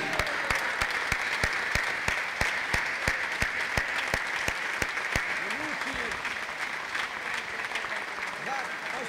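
A dance hall crowd at a Modena concert applauds loudly and steadily, with sharp rhythmic claps cutting through, and voices sound over the clapping as it continues.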